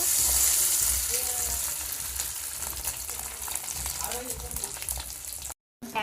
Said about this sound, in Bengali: এবার আমি কড়ার মধ্যে দিয়েছি সর্ষের তেল সর্ষের তেলের মধ্যে ওটা দিয়ে দেব